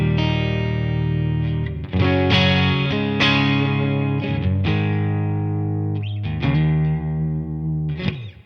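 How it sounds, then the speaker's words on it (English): A Stratocaster guitar runs through an amp and a Twin Sister pedal, playing ringing chords and sustained notes with a warm, slightly driven tone, each strum blooming and decaying, with no talking. "So that's the sound of the amp straight into the Twin Sister."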